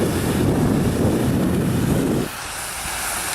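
Strong wind buffets the microphone beside a body of water near a grassy embankment, a loud steady roar that drops abruptly partway through to a lighter rush with no talking.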